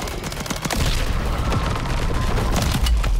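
Loud, sustained automatic gunfire fills a Call of Duty Modern Warfare III Zombies mission, with rapid overlapping shots and booming impacts that continue without a break.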